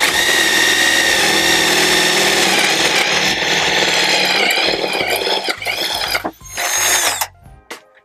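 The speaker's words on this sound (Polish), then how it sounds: "Belka, ósemka przewierciło na wylot bez żadnego problemu." A Stanley Fatmax FMC600D2 brushed corded drill bores an 8 mm bit straight through a wooden beam, a loud, steady close-up whine and grind that holds for most of the clip, then falters and stops near the end.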